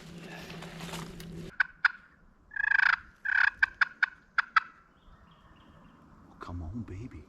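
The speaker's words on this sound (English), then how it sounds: "So we have some gobblers right over this ridge." Wild turkeys on a spring hunt gobble from over a ridge, a run of sharp rattling calls in quick succession, fairly clear at a middle distance, with someone talking quietly before and after.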